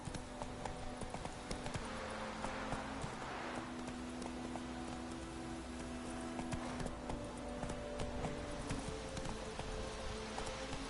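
The horse Roach in The Witcher 3 on PS5 gallops with a continuous, rapid clip-clop of hooves, steady and prominent over a low ambient game bed for the whole stretch.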